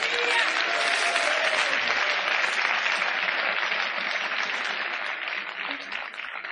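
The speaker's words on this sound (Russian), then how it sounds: "Дай Богу аплодисмент." Church congregation applauding together in a large hall, a dense, steady wash of clapping that stays loud throughout and tapers only slightly at the very end.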